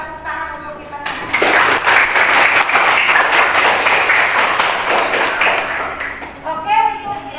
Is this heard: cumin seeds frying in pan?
no